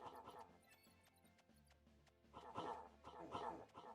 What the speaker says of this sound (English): The stupid dog,